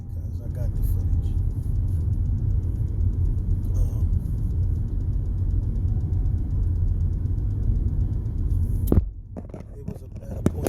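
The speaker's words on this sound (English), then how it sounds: "look how slow this car is just driving in front of me" A car rolls slowly along a road, heard as a steady, loud, low engine and road rumble from close by that runs throughout, followed by a sharp click near the end and a quieter stretch.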